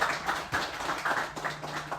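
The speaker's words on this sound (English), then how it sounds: "Can we give a round of applause to Jacob again?" Scattered handclaps from an event audience greet Jacob, a few bursts of clapping rising and fading over two seconds at moderate distance, sparse rather than a full ovation.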